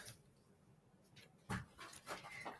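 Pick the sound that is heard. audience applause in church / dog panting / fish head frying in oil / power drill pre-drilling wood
dog panting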